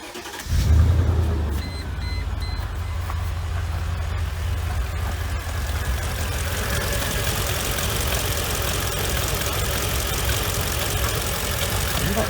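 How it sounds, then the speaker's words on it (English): A Mercedes engine with a purge valve fault and rough idle cranks and catches with a loud burst, then settles into a steady, even idle that continues for several seconds. "I'm just going to actually start the car now."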